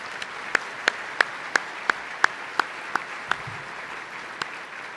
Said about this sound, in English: let's give a round of applause to all our scholarship recipients